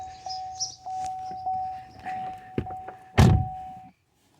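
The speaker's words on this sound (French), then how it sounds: "Porte ouverte." Car door handled up close: a steady electronic chime repeats under small clicks, then a solid thunk and rattle as the door opens, with brief rustling before silence.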